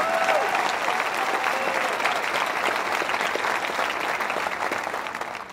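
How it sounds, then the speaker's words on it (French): A church congregation at an Easter service breaks into sustained applause, a broad wash of many hands clapping that holds steady and tapers slightly toward the end. "voulez-vous applaudir pour encourager quelqu'un autour de vous"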